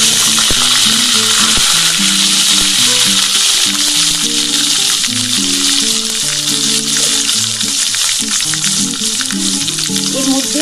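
Paste of ground onion, ginger, garlic and green chili frying in hot oil for an egg poach curry, giving a loud, steady close sizzle throughout with occasional stirring clinks.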